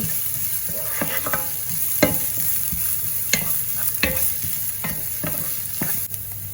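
Onions and green chillies sauté in a pan for Sri Lankan fish cutlets, a continuous sizzle punctuated by sharp, regular scrapes of the spoon stirring, close and steady throughout.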